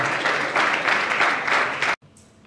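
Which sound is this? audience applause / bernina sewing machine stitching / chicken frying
audience applause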